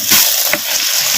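Mutton pieces stirred and sautéed in hot oil with green chillies, a steady close sizzle with soft scraping of the spoon against the pan throughout.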